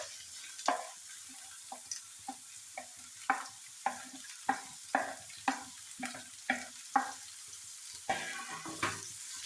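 Chopped onions sautéing in a hot pan of oil for beef cutlets, with a steady sizzle broken by a regular rhythm of spoon scrapes and stirs, close and alone with no talk.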